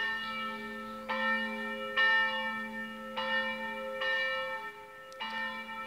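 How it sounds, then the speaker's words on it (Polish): Church bells toll in a steady, evenly spaced rhythm, about five resonant strikes with a long humming ring sustained underneath, heard from a moderate distance with no talking. "I pięknie dzwony biją"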